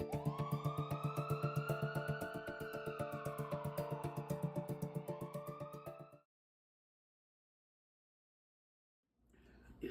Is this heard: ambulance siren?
yes